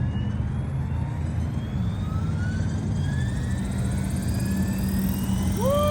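A 12s Synergy 696 RC helicopter on a slow startup, its motor whine rising steadily in pitch as the rotor spools up over a loud steady outdoor hum, with no talking.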